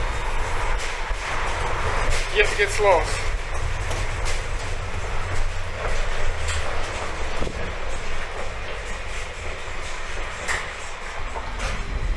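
Number 5 tram riding through Irkutsk, with a steady loud rumble of wheels and motor throughout, brief squeals and clicks, and someone speaking briefly near the start.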